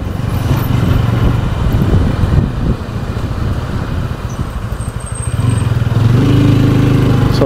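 A 2025 TVS Ronin motorcycle rides over a speed breaker, its engine a close, continuous low drone with wind rush that dips briefly and then swells louder toward the end.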